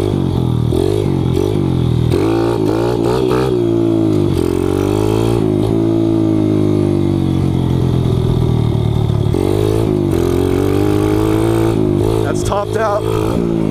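Kawasaki KLX 110 pit bike engine under load while riding over rutted ground, loud and close throughout with repeated throttle blips, revving rises and drops and a sustained higher-revving stretch, plus some clatter.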